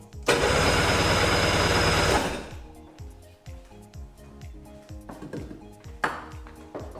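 A Sea-Doo GTX engine fires briefly on starter fluid with a loud, dense burst of rough combustion lasting about two seconds. It then falls back to uneven starter cranking and scattered clunks.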